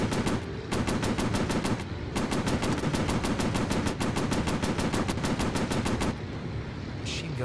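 Rapid machine gun fire in a World War II VR combat flight game rattles in two long bursts of fast, evenly spaced shots with a brief pause between them, loud and close, followed by a short tail.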